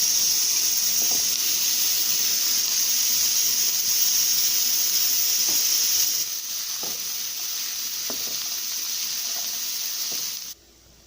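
Diced carrots sauté with onions in a pan, giving a steady sizzling hiss at moderate volume that drops a little midway and cuts off abruptly near the end, with no talking.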